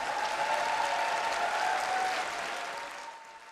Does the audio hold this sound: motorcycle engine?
no